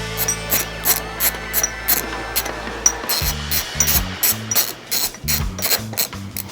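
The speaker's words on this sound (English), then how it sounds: "Switch the direction of your ratchet and get the bolt started by hand." A hand ratchet clicks rapidly in uneven bursts as it tightens the bolt on a peg of an S.E. Bikes So Cal Flyer 24-inch BMX bike, close and loud, with no talking.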